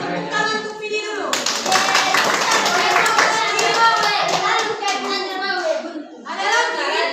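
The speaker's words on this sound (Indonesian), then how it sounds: "Oke, pintar sekali. Tepuk tangan untuk Vidi dulu." Elementary school children applaud together in a classroom during a math lesson, producing a loud, dense burst of clapping that runs for several seconds, with a teacher's voice and children's speech heard before and after.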